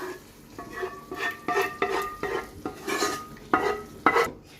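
Chicken pieces with onion fry in a pan for white sauce pasta as a prepared paste goes in and gets stirred, with a close, rhythmic run of spoon scrapes and clinks against the metal pan over a soft sizzle and no voices.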